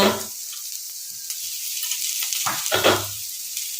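Grated carrot sautéing with softened onion in a pan, a soft hiss with occasional louder bursts of stirring and scraping, no voices.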